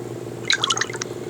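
A Samsung Galaxy S3 phone gives a short burst of bright, bubbly water-drop chimes, several quick droplet plinks clustered over about half a second, close and clear above a steady low hum.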